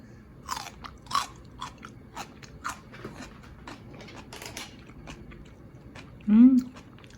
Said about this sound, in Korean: 뜯어서 하나 먹어보자. 먹어볼게요.